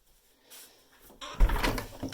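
A door fitted with a rustic lock being closed and fastened inside a holiday rental in Turkey, with a soft scrape followed by a louder wooden clunk and rattling handling of the latch, close by and without talk.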